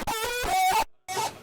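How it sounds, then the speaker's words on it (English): A pitched vocal phrase processed with EQ and Trash 2 distortion for a hardstyle track, sounding gritty and harmonically dense. It comes as one sustained phrase, a short gap, then a brief second burst. "So then we added this EQ and the Trash 2 distortion."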